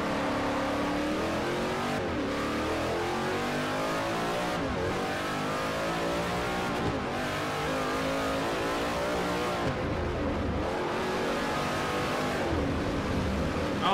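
V8 Supercars race cars in Forza Motorsport 4 roar continuously and loudly, engines revving and shifting through gears with pitch rising and falling every couple of seconds, several cars layered together and no talk.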